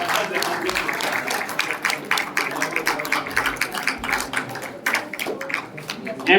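An audience at an evening devotional gathering applauds. A dense run of claps continues steadily throughout, with a voice speaking over it.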